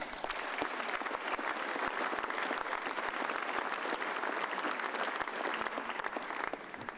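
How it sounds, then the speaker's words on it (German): An audience at a comedy show by Claudio Zuccolini on stage at an eco-friendly event claps loudly and continuously, a dense wash of handclaps that holds steady throughout. "Vielen herzlichen Dank für den tosenden Applaus."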